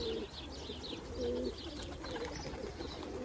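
Pigeons cooing in a coop, soft repeated low coos close by over a steady background hiss, with faint chirps mixed in.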